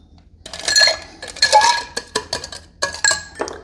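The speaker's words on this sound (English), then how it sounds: "add our rocks and stir" Ice cubes clatter into a mixing glass and are stirred for a Vieux Carré cocktail, with several loud clinking bursts followed by rhythmic rattles of ice against glass, close and alone.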